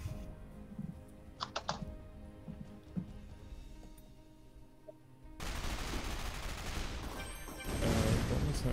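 Rapid gunfire from the artillery game Shellshock Live crackles in quick bursts, then gives way to a louder, dense roaring blast that fills the last few seconds.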